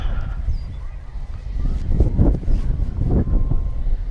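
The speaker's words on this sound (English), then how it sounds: "at least now you know it's windy" Wind buffets the microphone in rough low gusts, rising and falling, over a drone landing pad, with a few faint voices in the background.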